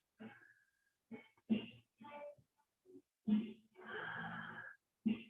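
Slow, deep breathing during a yin yoga class, heard as a series of close, airy breaths with a long, rushing exhale near the end. No one speaks.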